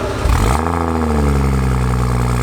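A BMW N55 335i with a VRSF single-exit street catback and 3.5-inch downpipe revs up sharply, then settles into a loud, steady, raspy drone heard up close.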